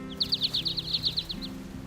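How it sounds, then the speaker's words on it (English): Loud bird chirping in Final Fantasy 16, a quick run of about a dozen bright, evenly spaced chirps close up over a faint low background hum. "why were the birds so loud?"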